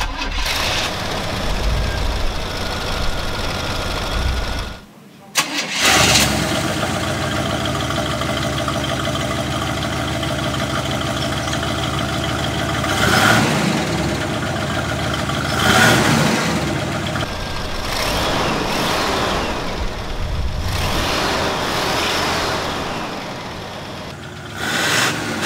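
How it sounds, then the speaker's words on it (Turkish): A Cadillac Fleetwood Brougham's engine runs steadily at a low, even rumble while driving, with a brief drop near the start and a few swelling surges as it accelerates, close and without talk. "bu motorun hafif homurtusunu ve gücünü hissederek yol almak gerçekten harikulade"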